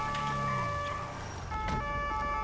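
Police car siren from the video game GTA 5, wailing steadily in rising and falling sweeps and holding loud and close for the whole stretch, with no talk over it.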